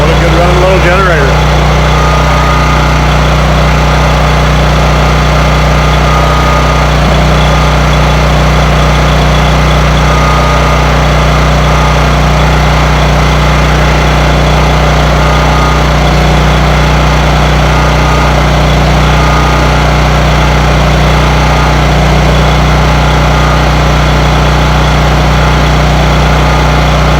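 A Husky portable generator engine runs loud and steady throughout with a constant droning hum, close by.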